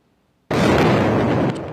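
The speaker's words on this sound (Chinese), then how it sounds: "激烈爆炸声" A violent explosion from an Israeli airstrike on Gaza's Islamic University erupts suddenly after a moment of quiet, a loud, deep, rumbling blast that stays heavy for about a second before easing slightly.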